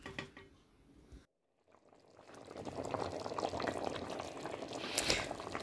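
A smoked chicken thiou stew simmers on medium heat, a steady close bubbling and soft liquid burble that swells after a short silent gap.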